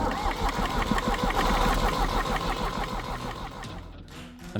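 The diesel engine of a Universal 530DT tractor with air in its fuel lines turns over on the starter, a steady rough rhythmic cranking churn that fades out near the end.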